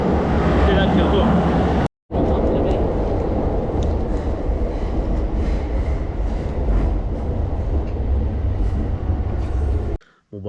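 A metro train in Japan rumbles along, giving a loud, continuous roar of wheels and carriage noise from inside the car, with brief gaps where the sound cuts out.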